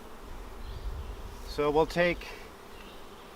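Honey bees hum steadily in an open hive during a colony split, a soft continuous buzz close by while someone speaks briefly over it.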